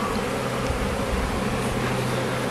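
A honeybee swarm marches into a hive, a dense continuous buzzing drone of many bees, steady and fairly close, with no voices.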